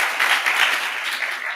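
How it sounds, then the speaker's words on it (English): A theater audience at a season celebration breaks into dense, sustained applause, a broad wash of clapping that swells and then tapers slightly over a second and a half. "give them a round of applause because they're awesome"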